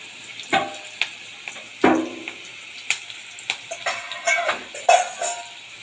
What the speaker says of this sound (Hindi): पहले आलू को थोड़ा फ्राई करना है